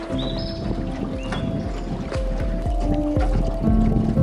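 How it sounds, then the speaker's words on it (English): Oars dip and pull through water with rhythmic splashes and knocks, water rushing steadily around a small rowboat nearby on a cave tour in Ninh Binh, Vietnam. "The sound of the water rushing around the boat, the oars coming in and out of the water."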